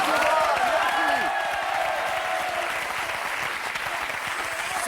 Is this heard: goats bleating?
no